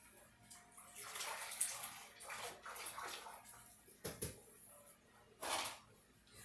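Tap water runs and splashes steadily at a kitchen sink while dirty hands are rinsed during meatball preparation, with scattered louder splashes and knocks.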